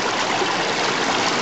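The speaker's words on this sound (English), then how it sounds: "the water's flowing underneath this top piece" Stream water rushes steadily through a double-level gold panning sluice at Yankee Jims, a close, loud, continuous flow with no break in the brief burst.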